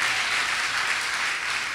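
Audience applauding in church, a brief dense wash of clapping from a crowd, steady and fairly loud.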